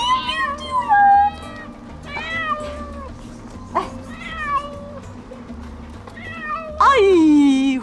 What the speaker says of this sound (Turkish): Kedi sesi mi o?